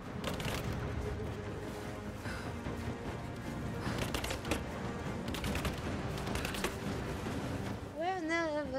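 Gunfire rattles in Rise of the Tomb Raider, fairly faint and continuous, with repeated shots and bursts across the whole stretch, under a busy game soundscape with a rising warbling tone at the end.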